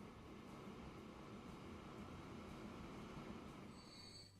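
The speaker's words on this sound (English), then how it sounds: "there's the PAX train coming into the station" Passenger train pulling into a station in Transport Fever 2, a continuous rumbling roll of rail cars with sustained wheel squeal rising toward the end, loud and unbroken, no voices.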